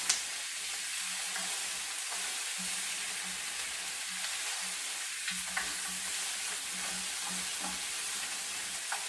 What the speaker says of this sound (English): I'm going to stir the rice little bit